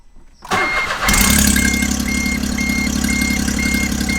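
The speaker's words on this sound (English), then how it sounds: "Put the car off. Start her back up." A Smart car engine cranks and catches after a brief quiet moment, then settles into a loud, steady idle with a faint periodic chime in the background, heard close up in a Copart auction car under timing repair.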